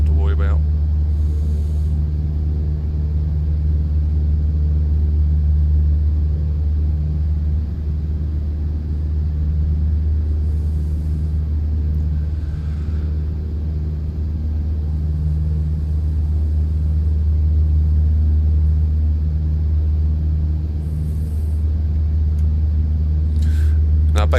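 A Cessna 152 Aerobat's engine drones steadily during a slow climb in Microsoft Flight Simulator, with a loud, constant low propeller-engine hum running unbroken throughout and a few faint clicks over it.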